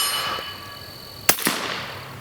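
Two sharp gunshots from a Ruger Mark IV 22/45 Lite pistol at an outdoor range, fired in quick succession at a distant 100-yard target, bright cracks with short echoes over a quiet background.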